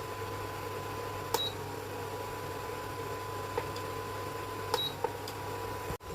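A kitchen timer gives a few short, sharp beeps at scattered moments while being set for boiling sweet potatoes, standing out clearly above a steady low hum of kitchen background noise.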